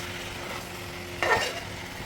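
Pork curry frying down in a pan as its water cooks off, a quiet steady sizzle with one brief louder scrape of stirring near the middle.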